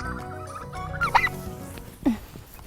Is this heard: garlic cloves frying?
no